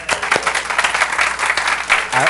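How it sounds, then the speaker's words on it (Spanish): An audience at a forum applauds a lawyer and philosopher: a short, dense burst of clapping lasting a couple of seconds, with a voice briefly audible near the end. "Un aplauso para él,"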